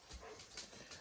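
A dog whimpers faintly in the background at home among several moody dogs, short soft whines that are barely audible.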